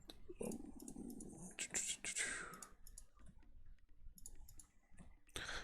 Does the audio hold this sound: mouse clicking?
yes